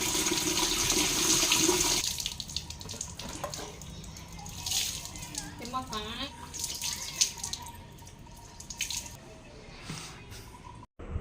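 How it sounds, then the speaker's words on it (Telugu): Water runs and splashes outdoors as hair dye is rinsed off hands. A strong gush at first gives way to softer trickling and dripping, with a few faint clinks and some talking. "ఇదంతా బాత్రూంలో అయితే కడగకండి, బాత్రూమ్ కడుక్కోలేకపోవాలి మనం, బయటనే కడుక్కొని సింపుల్ ఇలా"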